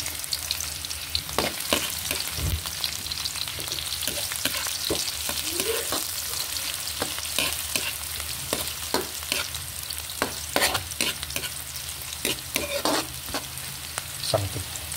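Onion sautés in hot oil in a pan for beef papaitan, a steady close sizzle broken by frequent sharp stirring scrapes and crackles.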